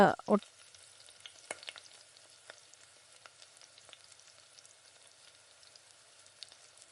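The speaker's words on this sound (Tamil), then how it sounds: "இது கூடவே தக்காளி சேர்த்து வதக்குறப்ப இஞ்சி பூண்டு விழுது வந்து நல்லா" Tomatoes and ginger garlic paste sautéing in a pan for veg biryani, a soft continuous sizzle with light stirring scrapes, after a couple of brief louder clatters at the start.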